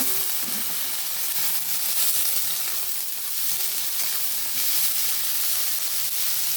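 Beans, cauliflower, carrot and peas fry in a hot pan with a loud, unbroken sizzle and hiss, steady from start to finish with no voices.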